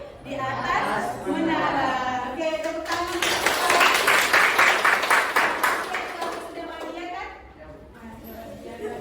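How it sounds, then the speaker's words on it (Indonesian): A classroom audience of vocational high school students claps steadily for several seconds, a dense wash of hands swelling in the middle and tapering off, with chatter mixed in. "Oke, tepuk tangan."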